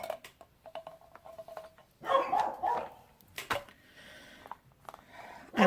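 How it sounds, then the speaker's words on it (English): Dogs bark at a front door in the background of a kitchen where beans are being prepared for dehydrating, giving a few faint yips and then a louder burst of barking, with clattering nearby. "my dogs are at the front door barking"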